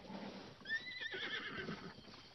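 Horse neighing in the video game Zelda Breath of the Wild, a clear rising whinny over faint hoof clip-clop, close and fairly quiet.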